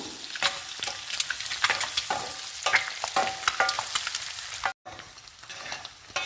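Boiled egg pieces fry in a pan with spicy Guntur chilli masala, crackling and popping close up in irregular bursts, with a brief silent gap before the sizzle resumes.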